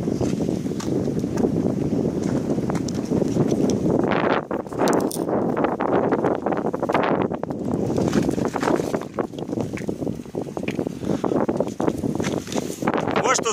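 Gusty wind buffets the microphone outdoors at a paragliding session, a steady loud rush with stronger surges throughout while people talk nearby.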